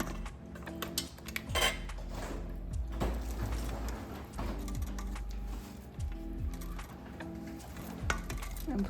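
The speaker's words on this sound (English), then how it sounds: "I'm pushing it down in the pan to make sure I get every bit of it mashed up." Sweet potato being mashed in a pan, giving repeated clinking scrapes and knocks of a masher against the metal pan, fairly close and steady, with a voice talking at times over it.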